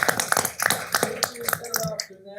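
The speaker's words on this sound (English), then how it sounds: "So let's give them all a round of applause." Scattered audience applause at a city council meeting, with sharp, uneven claps that carry clearly while voices talk over them for the whole stretch.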